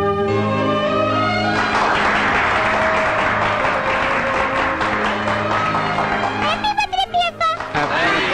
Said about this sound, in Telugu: మీరు కొట్టిన ఆ చప్పట్లు